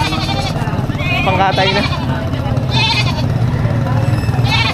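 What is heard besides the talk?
goats bleating at a livestock market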